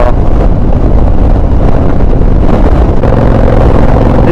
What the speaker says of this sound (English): It's super windy right now, like crazy windy right now.